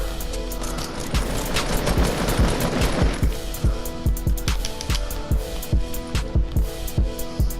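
Rapid, evenly spaced gunfire from dual pistols in a battle-royale video game, sharp repeated shots for several seconds over a busy game soundscape, fairly close and loud.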